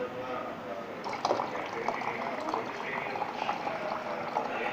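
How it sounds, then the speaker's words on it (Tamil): Water running into a container, a bubbling, splashing stream with small rises in pitch as it fills, with faint talk in the background. "அடுத்தது தண்ணி பிடிக்கணும்."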